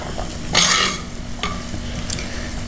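A spoon stirs coriander powder and spices frying in a pan, with a loud scraping swish and a couple of lighter scrapes over a constant sizzle.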